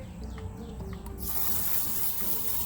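Water from a sink tap is switched on and runs in a steady loud gush to wash a tumbled rock with soap, preceded by a quieter moment with faint birdsong.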